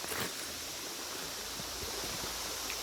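Steady rushing creek water flowing over riprap rocks, a continuous broadband burble with no pauses, fairly close.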